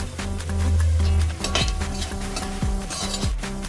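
Curry leaves dropped into hot oil while making poha, with a brief sizzle followed by a metal spoon stirring and clinking against the pan in a few quick strokes, close up and without talk.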